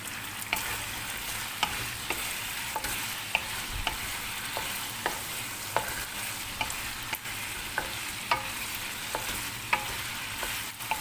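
Chicken adobo in dark and light soy sauce with vinegar is stirred in a frying pan: a steady sizzle runs under repeated, regular clinks and scrapes of the utensil against the pan, close and moderately loud, with no talking.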